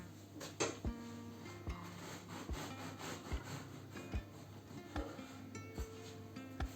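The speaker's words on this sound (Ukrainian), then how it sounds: "Краще почекати, поки хлібчик трохи охолоне, але ми будемо різати його прямо зараз." A knife saws through a freshly baked loaf of homemade bread, giving a quiet, close, rhythmic rasp of back-and-forth strokes, about eight regular passes with faint crust crackle.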